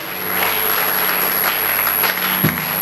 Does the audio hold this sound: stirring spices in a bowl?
no